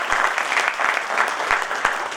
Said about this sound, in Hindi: एक बार जोरदार ताली दियो ना।